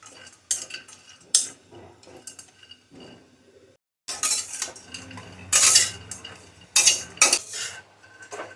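Metal utensil scraping and clinking against a pan in short bursts as dry dates are roasted, with quiet stretches between stirs and no voices.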